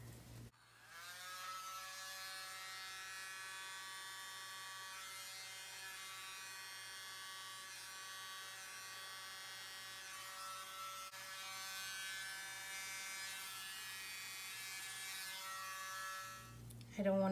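A small battery-powered blower whirs with a thin, steady electric whine as it pushes paint across a Dutch pour, faint and continuous, starting and stopping abruptly.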